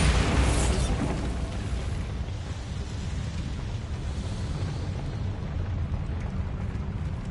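A Bombarda spell detonates in Hogwarts Legacy, a loud booming blast at the start that fades into a sustained rumbling roar.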